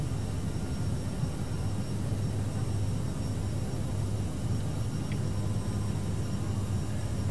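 Airliner taking off from runway 9 left in a flight simulator game, a steady, loud, broadband engine roar with a low rumble holding evenly throughout, with no talk over it.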